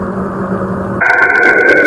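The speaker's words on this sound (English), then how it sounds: "High-pitched whines and screeching from auroral interactions." An eerie electronic whine of Saturn's auroral radio emissions, captured by Voyager 1: a low tone abruptly giving way to a shrill steady squeal with crackly, screeching texture, brief and fairly loud.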